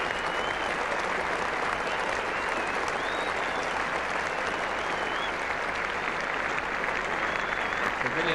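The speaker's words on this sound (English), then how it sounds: "the Australian players and spectators applauding Knott from the field" Cricket spectators at Trent Bridge during a 1977 England versus Australia Test match applaud a departing batsman with sustained, steady clapping, while a commentator speaks over the crowd.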